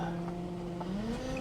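A 1998 Pontiac Grand Prix GT pulling away on the road, its engine tone droning steadily and rising in pitch as it accelerates, close and fairly quiet.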